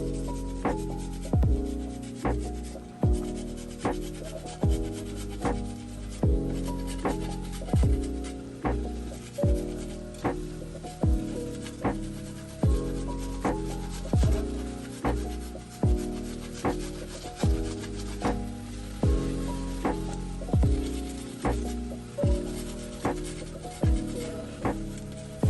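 A piece of ginger is rubbed against a large grater in long, regular rasping strokes, each stroke a loud scraping pass with a brief pause between, repeating steadily and close up with no talking.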